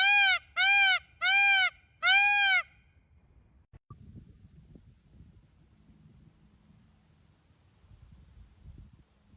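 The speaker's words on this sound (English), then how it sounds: "Peacock sounds." Four loud, harmonic peacock calls from a played recording ring out in quick succession, each a wailing honk, followed by quiet low rumble and faint room noise.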